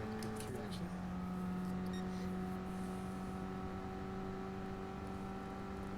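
The Corvette Group 3 race car's engine in Gran Turismo Sport, holding a steady, droning whine with strong sustained tones, running evenly throughout with a voice faintly beneath it.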